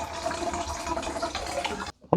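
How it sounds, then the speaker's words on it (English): Water pours into a bottle to top it up, a steady splashing, gurgling stream lasting nearly two seconds before stopping abruptly, followed by a brief clink. "just top the bottle up with maybe another few hundred millilitres"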